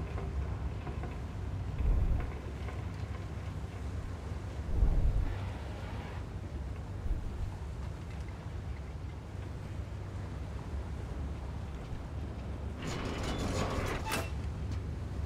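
Quiet cargo-ship ambience from Splinter Cell: Chaos Theory plays throughout: low engine rumble, creaking hull and mechanical rattles, with occasional louder knocks and a brief hiss of noise near the end.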